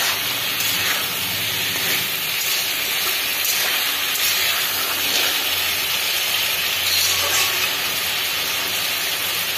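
Water poured into a pan of sizzling dried fish curry, giving a steady, loud hiss and steam roar that holds evenly throughout with no voices.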